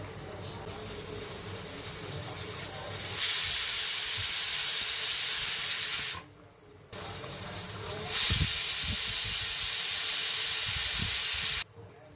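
A pressure cooker cooking Bengali-style mutton vents loud, steady hissing steam in long sustained blasts, with a brief quiet gap between bursts and a short pause near the end.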